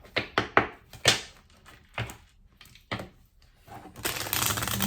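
A deck of tarot cards is shuffled in quick riffling bursts with soft taps, close by, then a longer, denser burst of cards slides at the end.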